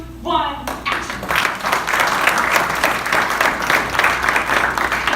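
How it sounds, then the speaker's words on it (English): A warm round of applause from an audience at a WordCamp conference in New York, beginning after a brief voice and swelling into loud, dense clapping that carries on steadily. "give him a warm round of applause"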